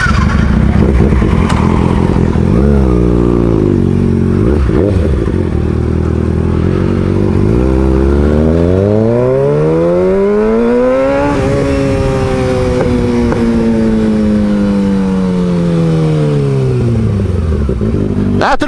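A Kawasaki motorcycle rides along a highway toward a toll booth, its loud engine droning close by and repeatedly climbing in pitch through the gears, then holding high and slowly falling as it eases off, with clattering wind noise throughout.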